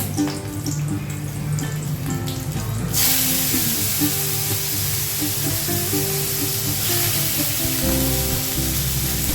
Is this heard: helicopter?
no